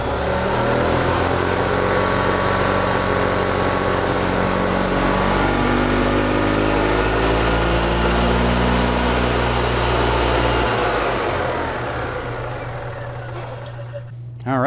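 A 2004 EZGO TXT gas golf cart engine runs close and loud with a steady droning rumble, then winds down toward the end while someone talks over it.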